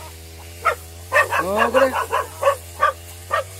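A puppy in the countryside yips and barks repeatedly in short bursts, including a whimpering rising cry, close by over a steady low hum, with someone briefly speaking.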